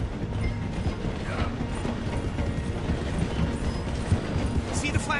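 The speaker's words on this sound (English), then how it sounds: "The train is slowing down to go through the station." A train slows as it passes through a station, with continuous mechanical rattling and clattering of wheels and carriages, steady and fairly close.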